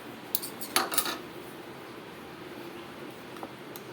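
A spoon clinks against a dish of chilled mango sago in a quick cluster of light metallic taps near the start and one more tap near the end, against quiet room hiss with no speech.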